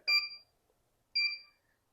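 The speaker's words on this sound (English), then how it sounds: "Once the heat press is all warmed up, you'll hear this beeping sound." Two short electronic beeps from a heat press signalling it has warmed up, about a second apart, clear and close in an otherwise quiet room.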